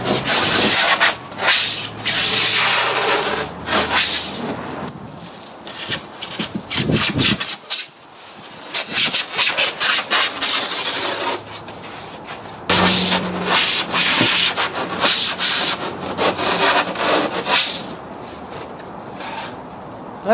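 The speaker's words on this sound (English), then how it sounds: "Now I'm going to do some cutting." Styrofoam being cut for a homemade Halloween decoration gives harsh, squeaky rasping strokes in repeated bursts, close and loud, with a few short pauses between runs.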